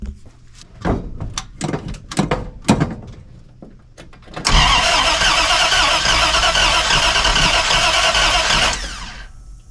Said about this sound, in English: High torque starter should hopefully spin this over a little bit easier